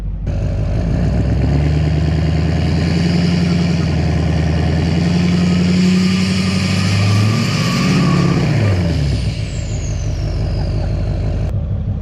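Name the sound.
Duramax truck engine revving in 2-wheel drive, pulling a tractor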